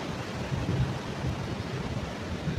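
Cold wind at a beach in Maranduba, Ubatuba, blows as a steady broadband rush with faint surf mixed in, with no voices over it.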